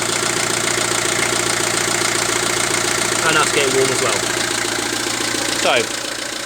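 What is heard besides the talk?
River Thames motor cruiser main engine running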